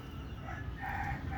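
A native rooster crows once, faint and somewhat distant, its call rising partway through over low background rumble.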